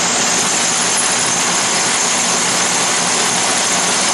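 An Atlas lathe takes a turning cut, 25 thousandths in on the crossfeed, giving a loud, steady, dense machine roar that holds unbroken throughout, motor drone and cutting noise blended together close by.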